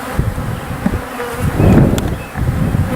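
A dense swarm of honey bees from a package being installed in a hive in bad weather buzzes close by, a thick droning hum that swells and dips with individual bees passing near.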